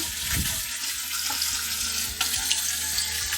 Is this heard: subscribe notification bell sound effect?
no